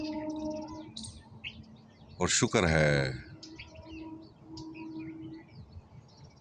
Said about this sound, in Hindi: ये जीव जंतु, ये पक्षी, ये मनमोहक आवाज़ें,